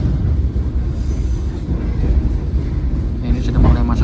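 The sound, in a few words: Argo Cirebon train arriving at Tegal station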